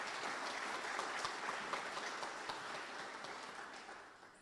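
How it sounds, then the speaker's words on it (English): A dinner crowd at a Marine Corps awards event at Camp Lejeune claps steadily for the award recipients, dense and sustained, tapering slightly toward the end. "how about a round of applause for the award recipients?"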